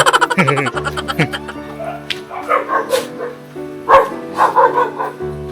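A dog barks and yips several times in quick bursts near the start, with other voices and background sounds continuing around it.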